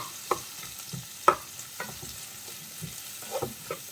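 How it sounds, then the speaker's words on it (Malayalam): Chopped onions frying in a pan for a Palakkad-style egg curry, stirred with a few irregular scraping knocks over a steady low sizzle, close and moderately loud, with no talking. "സവാള ചേർത്തിട്ട് നന്നായിട്ട് ഇളക്കി കൊടുക്കാം"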